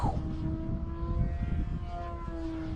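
An RC trainer model airplane runs at full throttle for takeoff, its electric or small engine giving a steady, high, droning whine with a strong tonal pitch, heard up close over wind noise.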